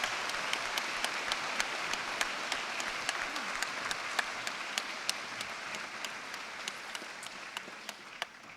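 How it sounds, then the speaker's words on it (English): Applause from a graduation ceremony audience for Masters programme candidates, a steady, moderately distant patter of many clapping hands with a few sharper individual claps standing out, continuing evenly throughout. "we have a big round of applause ready for all our Masters Programmes candidates today"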